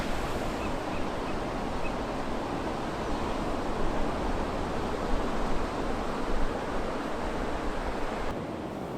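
Ocean surf rolls onto the beach at Cape Kiwanda near Pacific City, Oregon, a dense, continuous wash of waves with some wind noise, steady and fairly loud, no voices.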